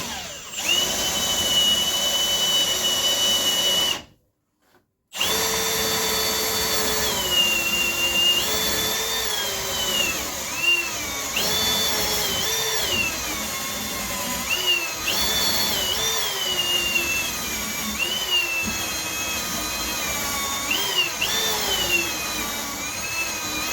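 A power drill bores a series of holes through wood for a boat bowsprit, its loud whining motor rising and falling with each hole and one brief pause early on.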